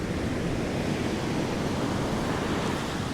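Rough surf crashing continuously on a beach in Vietnam in winter, a loud, steady roar of breaking waves with wind noise, no speech.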